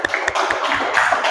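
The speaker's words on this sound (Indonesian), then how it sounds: "kasih tepuk tangan dulu" Classroom students clap together in a short burst of quick, sharp claps that sound close and fairly loud.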